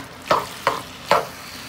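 A Tex-Mex skillet sizzles in a cast iron pan while a spoon scrapes through it in three quick, distinct stirring strokes, close and clear over a soft frying hiss.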